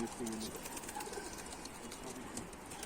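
Pigeons cooing and fluttering amid a loud, noisy outdoor background, with people's voices mixed in.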